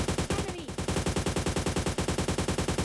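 Rapid automatic gunfire from a weapon in PUBG Mobile Lite, a steady stream of evenly spaced loud shots that continues almost unbroken for the whole stretch.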